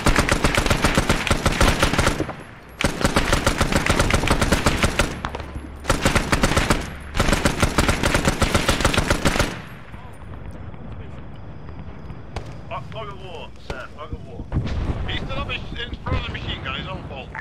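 Heavy automatic gunfire from the video game Arma 3 sounds in long, loud sustained bursts separated by short gaps, then gives way to quieter wind and ambient noise with scattered faint sounds.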